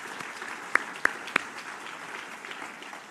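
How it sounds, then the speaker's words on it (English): An audience at an environmental excellence awards ceremony applauds the judges with a steady, dense wash of clapping, a few sharp individual claps standing out near the front. "let's give a round of applause for our judges"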